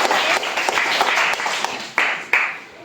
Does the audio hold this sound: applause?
yes